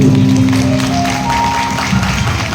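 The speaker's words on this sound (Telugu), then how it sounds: "ఒకసారి గట్టిగా చప్పట్లు కొడదాం" Audience clapping at a Telugu church Christmas skit in Kuwait, a steady wash of applause from a room full of people, loud and continuous throughout, with a held musical tone sounding underneath.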